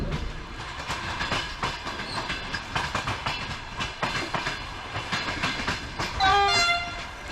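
A Pendolino train rolling past at London Euston station with rhythmic clacking and broad rumbling noise, then a brief horn near the end.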